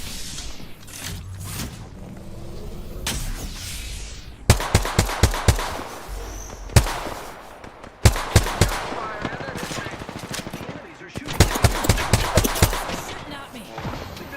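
Rapid automatic gunfire from an Apex Legends match rattles out in several sharp bursts, loud and close, with shorter gaps of quieter game noise between them and a voice speaking over parts of the action.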